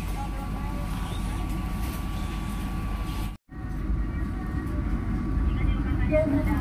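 A Cikuray passenger train at Kiaracondong station in Bandung rumbles steadily with low, continuous rolling noise and a faint high tone, broken by one brief dropout, heard from aboard.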